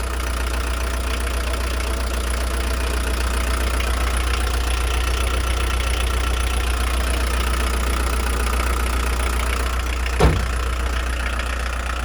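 A 1986 Volkswagen Transporter drop-side pickup with a 1.6 L turbo diesel idles steadily and close, a low even chug with a clattery diesel edge and one brief knock near the end.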